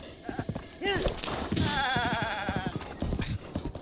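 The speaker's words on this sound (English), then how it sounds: "someone in a sound booth to make goat noises makes me laugh so hard. That was a goat." Goat bleating in the video game Zelda Breath of the Wild, a quavering vocalized bleat standing out amid game sounds, with brief clip-clop hoof-like noises and some voice nearby.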